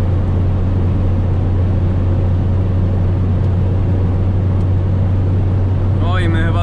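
Alfa Romeo 159 2.4 JTDm diesel cruising at 210 km/h on a motorway, a loud, steady cabin drone of engine and road and wind noise, with a person speaking over it.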